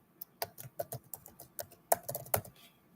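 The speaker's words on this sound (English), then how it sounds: "So I'm gonna type it to correction." Keys clatter on a computer keyboard in uneven bursts of quick taps, close and fairly quiet, with a few sharper strokes near the end and no talking.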